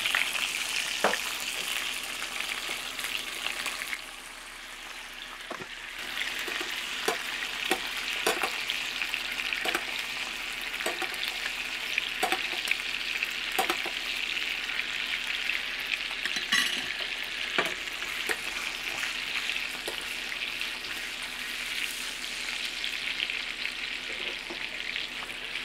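Beef sirloin fries steadily in a hot pan with garlic, a thyme sprig and butter, a loud continuous sizzle holding for the full stretch, briefly dipping once, with scattered crackles and no talking.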